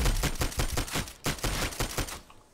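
Rapid automatic weapon fire in PAYDAY 2, a fast even stream of close, loud shots broken by one brief gap, then fading out at the end.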